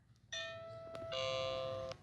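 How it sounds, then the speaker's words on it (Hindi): A doorbell rings with two clear electronic chime tones in quick succession, close and fairly quiet, with nothing else around it. "डोरबेल।"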